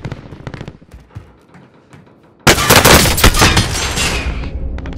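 Gunfire in the Call of Duty Warzone video game, a few scattered shots at first, then a sudden loud, sustained burst of rapid fire that continues to the end.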